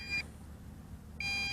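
Low-voltage return-to-home warning from an MJX Bugs 2 SE drone in flight: a high, thin electronic beep that cuts off, a gap of about a second, then a longer beep starting again, clear over soft background noise.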